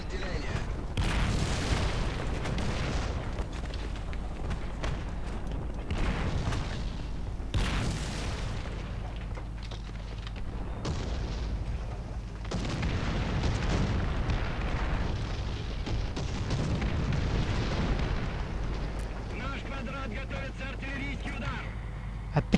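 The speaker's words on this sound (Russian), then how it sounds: "Вот артиллерия." Artillery fire and explosions in the combat game War Thunder, with heavy booming blasts and rumbling bursts repeating densely over a loud, continuous battle din.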